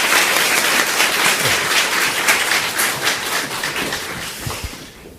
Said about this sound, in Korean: 네, 우리 다시 한번 박수로